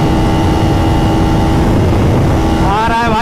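A KTM Duke 250 and a Honda CBR 250R motorcycle drag race, a loud sustained engine drone with rising revs toward the end, wind buffeting over it and no clear talk.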